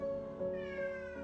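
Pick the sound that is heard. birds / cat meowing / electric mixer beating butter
cat meowing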